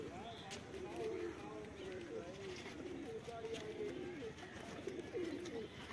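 Soft, low cooing from several pigeons mixed with faint rustling and a few brief voices in the background.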